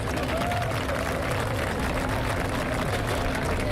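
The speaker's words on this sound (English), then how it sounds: "So if you could please join me in giving Scotiabank and MasterCard a round of applause." A crowd applauds at an outdoor Junior Junkanoo parade in the Bahamas, a steady wash of clapping and cheering noise with faint tones and a background hum running through it.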